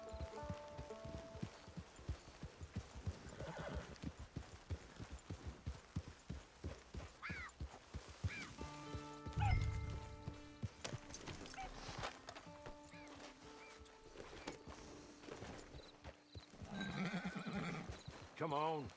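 A horse in the Red Dead Redemption 2 Online game whinnies and snorts amid clip-clopping hooves, with a voice talking over it and rainy, busy game ambience filling the background.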